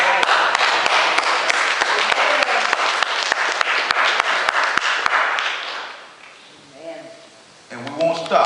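An audience claps loudly at a meeting with the father and the NAACP state president, dense applause with sharp individual claps that fades out near the end as voices begin to speak.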